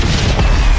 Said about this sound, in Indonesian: Bersamaan dengan ledakan itu, Kim menjatuhkan diri ke bawah.